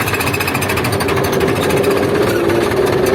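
An Ursus C360 tractor with a Turbomatic hydrokinetic clutch pulls away in fifth gear, its diesel engine running loud and close with a fast, even rhythmic knocking and no drop in revs.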